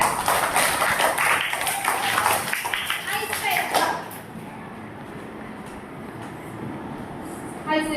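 A classroom of children bursts into dense, loud applause for about four seconds, then fades to a quieter room tone with a few faint taps.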